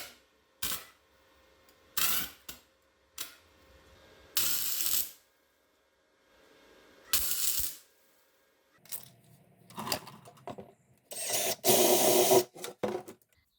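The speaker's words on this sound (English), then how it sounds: "just got some scrap steel I'm going to weld onto there" Welding scrap steel onto the frame of an LS swap engine test stand gives loud bursts of crackling, hissing arc in several separate runs of one to two seconds, broken by silent pauses.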